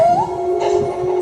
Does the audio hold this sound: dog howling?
yes